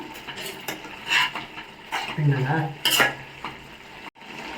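A spoon stirs semiya upma in a pan, giving a few close scraping and clinking strokes over a soft sizzle, with brief gaps between the movements.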